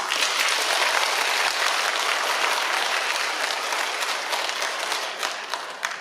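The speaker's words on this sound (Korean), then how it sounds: "우리 윤여준 지회장님 더 힘내시라고 큰 응원의 박수 한번 부탁드립니다" Sustained, even applause from an audience at a Parents' Day ceremony in Pocheon, dense clapping that gradually thins toward the end.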